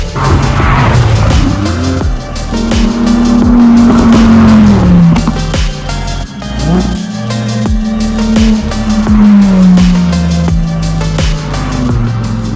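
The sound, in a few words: supercars speeding past on a road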